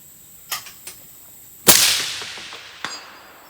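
A DMR competition rifle fires once at a 6-inch steel target 300 yards away: a single sharp, loud crack with a long fading tail, preceded by a few light clicks and followed by a faint distant tap.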